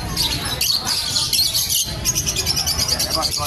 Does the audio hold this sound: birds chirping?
yes